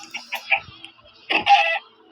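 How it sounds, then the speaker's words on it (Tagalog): Short, bright clucking calls from Minecraft chickens, a few quick notes followed by a louder, longer squawk, heard alone without talk. "Dito mga manok."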